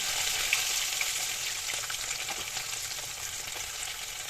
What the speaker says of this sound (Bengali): উল্টে পাল্টে মাছগুলোকে ভেজে নিয়ে আবারও ফিরে আসছি